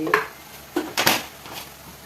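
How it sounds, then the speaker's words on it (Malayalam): A spoon stirs coriander powder and garam masala in a cooking pan, giving several short metallic scrapes and clinks close by with a faint sizzle between them. "അങ്ങനെ നമുക്കിതൊന്ന് ഇളക്കാം."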